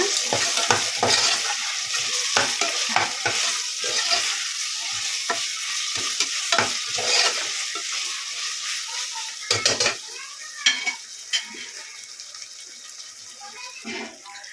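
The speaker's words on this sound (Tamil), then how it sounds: "இப்போ இதையும் சேர்த்து நல்லா மிக்ஸ் பண்ணிங்க" Chopped tomato is stirred into a frying pan of sizzling food while cooking coconut milk rice. A spoon scrapes and clatters in quick, uneven strokes over a soft, steady sizzle, heard close up.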